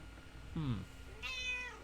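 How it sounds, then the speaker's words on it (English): A cat meows twice in quick succession, the first call low and short, the second higher and drawn out, heard close over steady low background hum. "Meow. Meow."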